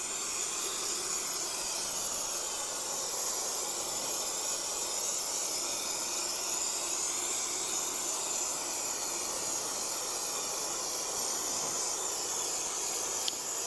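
A steady, continuous hiss of aerosol contact adhesive spraying for several seconds without a break, close and fairly loud, with no voices.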